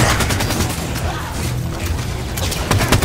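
Assault rifle fire in Halo 5: Guardians, dense rapid automatic shots in continuous bursts, loud and close, mixed with booming game effects.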